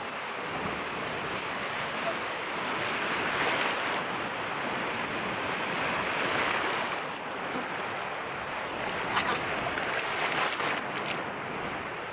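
Big ocean waves crash and wash onto a beach in a continuous broad roar, swelling and easing over several seconds, with wind buffeting the microphone throughout.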